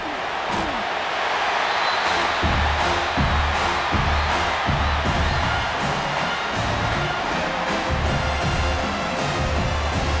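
Stadium crowd roaring in College Football 26 during a South Carolina vs Coastal Carolina game: a steady, loud wall of cheering with rhythmic thumps and stomps pulsing underneath.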